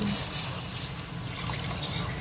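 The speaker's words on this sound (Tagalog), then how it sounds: "Ito na, lagyan na natin ng tubig. Nilagay ko ng mainit na tubig." Hot water pours into a cooking pot for pancit bicol, a soft continuous trickle and splash lasting a couple of seconds, with no talking.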